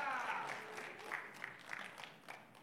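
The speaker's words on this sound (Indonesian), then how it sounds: "Kasih tepuk tangan buat dua pria ini." Audience applause in a church service in Jakarta, a short burst of clapping with a few sharper claps rising out of it, fairly faint and heard alone.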